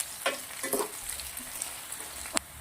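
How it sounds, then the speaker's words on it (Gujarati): Chopped onions, garlic and green chillies sautéing in hot oil, giving a steady low sizzle with a few sharp crackles and scrapes of stirring, close by and fairly quiet. "બધું સરસ મજાનું સાતળી લેવાનું છે તેલના અંદર"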